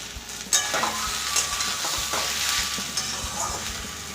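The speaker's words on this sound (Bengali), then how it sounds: "শুকনো একটু ভাজছি তো তাই একটু টাইমটা লাগবে" Potatoes for a plain white aloo chochchori dry-frying in a pan give a steady, close sizzle, broken by several sharp scrapes and knocks of a spoon stirring them. No one speaks.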